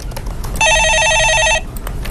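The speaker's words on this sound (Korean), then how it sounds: "예, 전화 받아보겠습니다." A telephone rings once in a radio studio, an electronic trilling burst of about one second that is loud and close, with faint room sound before and after.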